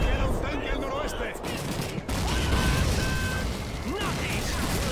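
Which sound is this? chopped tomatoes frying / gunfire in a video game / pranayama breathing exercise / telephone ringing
gunfire in a video game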